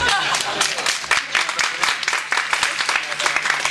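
An audience claps at the start of a teaching talk, a short burst of loud, close individual claps with crowd noise beneath.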